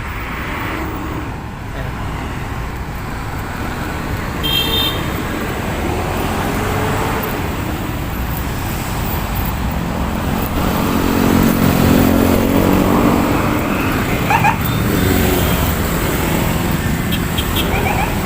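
Heavy road traffic passes along the Manila Bay baywalk, a steady loud roar of cars and motorcycles that swells slightly midway, with faint voices mixed into the constant engine noise.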